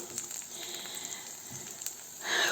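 Steady frying sizzle of egg and purslane in a pan, a soft crackling hiss that swells louder near the end.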